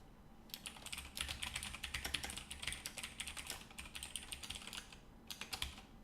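Computer keyboard typing during compiler programming work: continuous irregular clicking keystrokes in bursts, fairly close and quiet, with a brief pause near the end before a few more taps.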